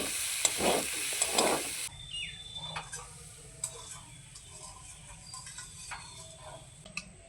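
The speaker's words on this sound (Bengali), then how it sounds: "ভালো করে আরেকটু কষিয়ে নিই।" Potatoes sautéing in a pan with chili powder, a soft steady sizzle with occasional ticks and scrapes of stirring, preceded by louder clattering at the start.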